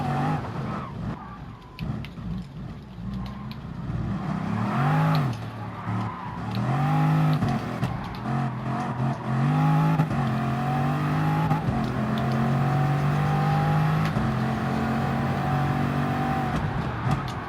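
A race car accelerates hard down a straightaway toward 200 mph, its engine note climbing steadily and loud through the gears after a brief rougher start, continuous and close.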